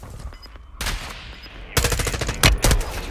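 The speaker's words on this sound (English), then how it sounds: "Yeah, they're sniping me." Sniper gunshots in Call of Duty Warzone 2.0 ring out in loud bursts, with several sharp, heavy cracks in quick succession over a busy background of game sound.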